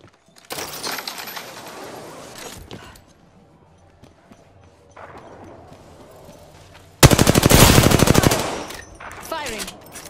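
Gunfire in Apex Legends: rapid automatic bursts come early and fade. After a quieter stretch, a loud, fast rattling burst of close shots runs for about a second and a half, followed by a few lighter pops.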